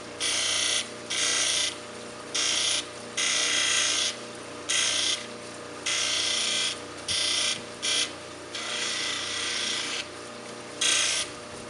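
A wonderstone cabochon is pressed against a spinning cabbing wheel in repeated bursts, each a bright rasping grind of a second or so, separated by short pauses where only the wheel's quiet whir remains.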